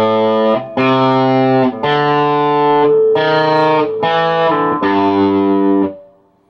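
Distorted electric guitar playing an intro riff, six loud, thick sustained notes struck one after another with brief breaks, the last note ringing out and fading.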